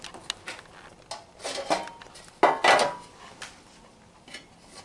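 Dough being placed into metal bread pans makes a few scattered clinks and knocks, with two louder clattering bursts midway and quieter taps between, close by with no speech.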